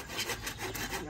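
An old, worn handsaw rasping through wood in quick back-and-forth strokes, close and steady, with a rhythmic rise and fall on each pass.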